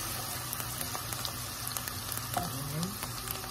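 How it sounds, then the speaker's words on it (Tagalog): Onions frying in a generous amount of oil for beef qeema while being stirred, a soft, continuous sizzle with light, irregular scraping clicks from the spatula and no voices. "Halo-haluin lang natin guys hanggang sa mag-brown yung onion niya guys"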